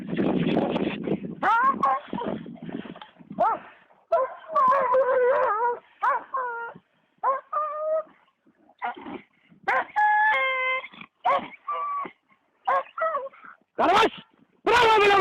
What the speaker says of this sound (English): Unfortunately for the Caucasian Shepherd, it finds itself in the grip of the most powerful dog bite ever measured.